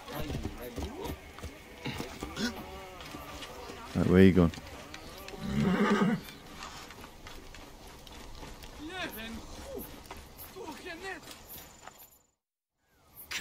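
In Assassin's Creed Origins, horse hooves clop in two brief, loud bursts among game ambience and music. Characters talk throughout.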